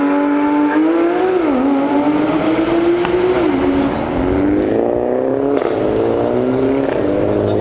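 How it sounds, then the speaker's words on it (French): A Porsche GT3 RS with a naturally aspirated flat-six revs hard at the Zoute GP 2025 car event, a loud, close engine wail rising and dipping across several throttle blips with no pause. "Comme ça qu'on roule avec un flat 6 Atmo."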